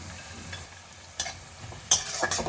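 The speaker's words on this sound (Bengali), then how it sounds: "কাজু কিশমিশ ওগুলো সবই আমার ভালো মতোই ভাজা হয়ে গেছে" Cashews and raisins being stir-fried with cauliflower and beans for Bengali-style fried rice, with a soft steady sizzle and a few sharp scraping stirs of the spatula near the end, close and fairly quiet.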